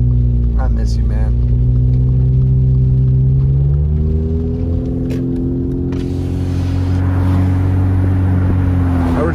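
A car driving over a dam in steady rain, with a loud, continuous engine and road rumble up close and rain hiss thickening partway through.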